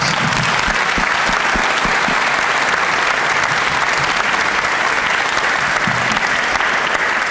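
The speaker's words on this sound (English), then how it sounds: "So let's give them another round of applause." A dense, steady round of applause from the audience at a mayoral candidate forum fills the whole stretch, loud and continuous with many overlapping hands and no pauses.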